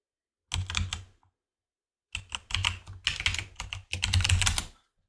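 Computer keys clatter in quick bursts as text is typed into Unreal Engine 5.4, a short burst, a pause, then a longer run of close, crisp keystrokes with no talking.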